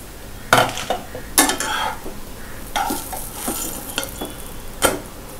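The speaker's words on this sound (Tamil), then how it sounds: "ப்ரெட் வந்து நல்லா டோஸ்ட் ஆகணும்" Garlic cheese bread toasts in a pan with a faint sizzle, punctuated by sharp scrapes and clinks of a utensil stirring and turning it, irregular and close by.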